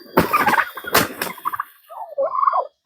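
Turkeys squaring off in a fight let out a few sharp, close gobbles with rapid rattling bursts, followed by softer warbling calls, with no talking.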